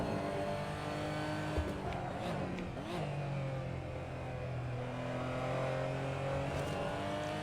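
Race car engine in a sim racing game during an online series event, a steady droning engine note that shifts in pitch through gear changes and revving, with a brief tire noise, continuous and unaccompanied by voices.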